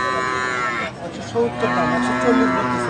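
Buffalo bulls at a Bangladeshi cattle market, lowing in deep, drawn-out moos close by over a steady hum of market noise, with talk mixed in.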